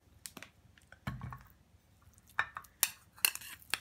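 A spoon stirs and scrapes through a small bowl of gram flour (besan) and honey scrub in short, irregular clinks and taps, close and fairly quiet, with no talking.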